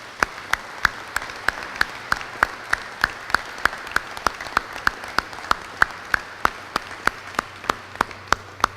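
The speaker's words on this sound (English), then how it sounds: "Could y'all please give him another round of applause?" Applause at a building ribbon cutting ceremony, led by a loud nearby person clapping at a steady, even pace over a thinner spread of clapping from a small audience, continuing throughout.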